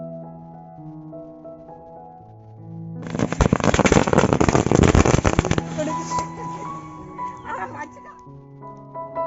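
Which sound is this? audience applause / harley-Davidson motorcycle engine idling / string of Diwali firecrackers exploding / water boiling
string of Diwali firecrackers exploding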